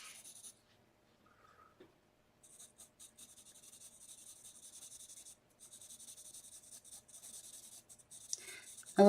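Freehand pencil sketching on a drawing sheet, a soft, steady scratchy rubbing of graphite against paper in continuous strokes with brief pauses, close and fairly quiet.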